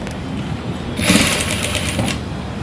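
A sewing machine stitches a boat neck dress with a loud, close, continuous rapid needle chatter that swells slightly partway through, with no talk.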